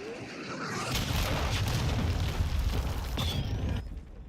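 Heavy booming cruise missile explosions in a video game, a sustained rumbling roar with overlapping blasts that swell in the first second and fade out near the end.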